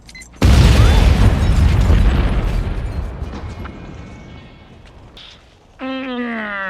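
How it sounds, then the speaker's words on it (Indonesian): A family car blows up in the comedy film Vacation: one sudden loud blast that rolls into a long crackling, fading rumble, followed by a person's voice near the end. "hingga mobil mereka meledak"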